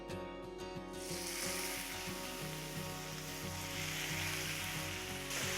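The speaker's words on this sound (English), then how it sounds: "You should hear a real good sizzle." Marinated pork sears in a hot oiled pan, giving a loud, steady, continuous sizzle with crackling that starts after a brief clatter and holds strong throughout, with no talking.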